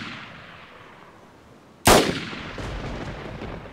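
In the DayZ game, a single loud, sharp gunshot cracks out at a zombie after a quiet ambient stretch, then trails off into a lingering echo and low rumble.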